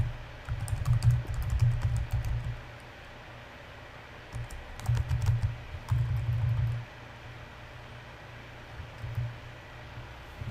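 Typing on a computer keyboard while writing a post, with soft bursts of rapid key clatter that come in short runs separated by pauses over a steady background hiss.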